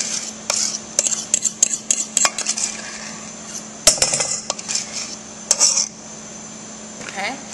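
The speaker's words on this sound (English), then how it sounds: "Okay, I'm just going to mix it up" A spoon scrapes and clinks against a bowl while cut apples are folded into a cream cheese mixture, irregular bursts of metallic taps and scraping up close with brief pauses between strokes.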